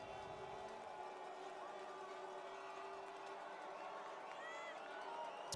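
A hometown crowd at a women's rugby gold medal match between Laval Rouge et Or and Victoria Vikes roars in a steady, distant wash, with a few whistles rising late.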